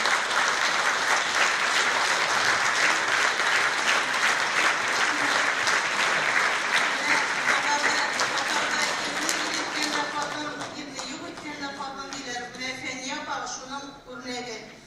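Concert audience applauding at a folk singer's show, a loud dense roar of many hands for about ten seconds that then fades as a voice begins speaking over the tail.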